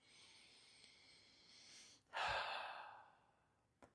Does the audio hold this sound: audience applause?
no